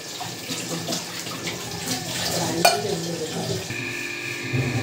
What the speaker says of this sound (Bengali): এবার আমি জল দিয়ে ভালো করে ফেটিয়ে নেব। জল দিয়ে দিলাম।